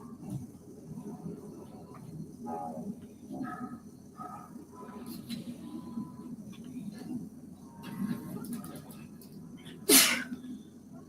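A single sharp human sneeze bursts out loud near the end, after a stretch of quiet room noise with faint clicks, during a live stream.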